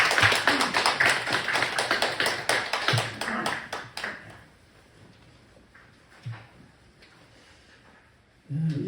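A church congregation applauding, dense rapid clapping for about four seconds that dies away into a quiet room with a few stray sounds.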